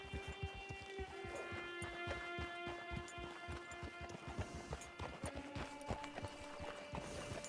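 Horse hooves clip-clop steadily in a dense, even rhythm in Red Dead Online on PS4, close and continuous beneath a bed of game ambience and music tones.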